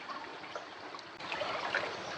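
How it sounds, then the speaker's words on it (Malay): Steady splashing and sloshing of someone wading through shallow village floodwater, a continuous close wash of water that swells slightly louder partway through, with no talking. "Ikut saya meredah banjir. Meredah banjir di kampung."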